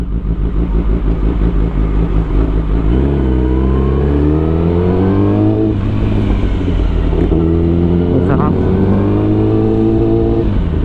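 A loud Kawasaki ZX-10R motorcycle engine accelerates through several gears with a quickshifter, rising revs cut by quick shifts, recorded close with wind noise and no clear talking.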